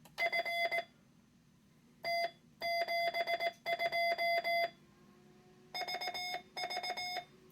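Morse code sidetone at 720 hertz from a keyer, clear steady beeps in rapid bursts of dots and dashes separated by short pauses, loud and alone.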